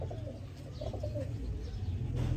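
Sialkoti pigeons coo in low, soft, repeated throaty calls, steady and close, with a constant low hum underneath and no talking.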